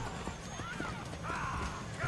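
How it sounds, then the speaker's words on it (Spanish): A horse's hooves clip-clop in Assassin's Creed Brotherhood, a steady rhythmic trot running the whole stretch with a brief whinny toward the end, all under game ambience. "el caballo ha venido del agua, ha venido el caballo"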